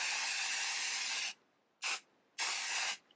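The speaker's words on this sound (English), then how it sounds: "Give it another shake. And another quick spray." An aerosol can hisses in one long spray, then two short bursts after brief pauses, close and loud with no voices.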